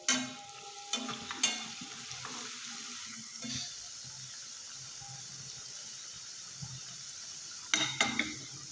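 Potato french fries frying in a pan give a faint, steady sizzle, punctuated by a few sharp clinks and scrapes of utensils against the pan near the start and end, with no talking.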